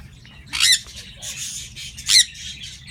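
Pet birds kept indoors give two sharp, loud squawks close by, with fainter chirps in between against a quiet room.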